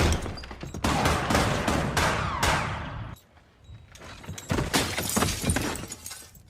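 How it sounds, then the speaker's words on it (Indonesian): Rapid bursts of gunfire from inside a building crack and echo, followed by a brief lull, then more scattered shots with glassy, shattering debris. "muncullah suara tembakan dari dalam dan..."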